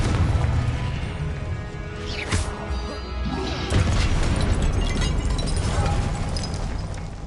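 A Confringo fire spell explodes in Hogwarts Legacy: a loud, dense crash with a sharp burst partway through, then a sustained roaring blast that fills the whole stretch at close range.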